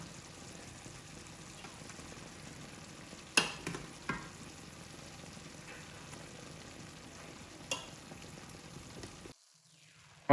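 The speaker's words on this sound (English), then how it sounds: "And in goes the rice." Drained rice tumbles onto cooked chicken in a pot for biryani, giving a few sharp scattering thuds over a steady sizzle and hiss, then a sudden drop to quiet at the end.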